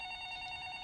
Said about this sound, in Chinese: 你听到他的电话响了。